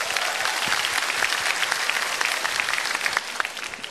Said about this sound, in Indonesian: Aduh, Farhat Abbas, tepuk tangan dulu dong.